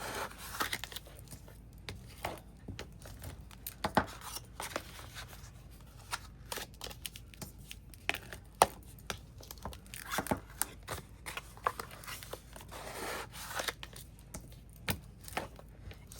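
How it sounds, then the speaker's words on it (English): Paper being burnished against chipboard edges while building a handmade album, a long run of quick, close, papery rubbing and scratching strokes, soft and irregular, with brief crinkles and taps. "let's go ahead and burnish the paper up against the chipboard so it's more defined"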